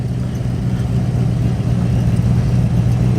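A Rover P6 3500S with a V8 engine and manual gearbox burbles steadily at a classic car show, a deep, even rumble that stays close and loud throughout with no talk.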